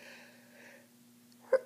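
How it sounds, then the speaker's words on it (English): A quiet hum gives way to a single short, sharp sneeze burst near the end, set off by spices such as chili powder and cayenne. "I'm gonna sneeze."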